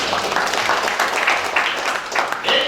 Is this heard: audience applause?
yes